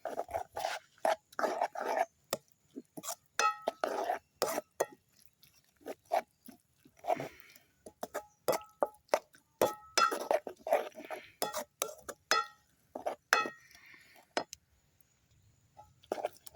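Egg stirred in a pan while cooking aval kothu, flattened rice: a spatula knocks and clinks against the pan in quick, irregular bursts, close and fairly quiet, with brief pauses and no talk.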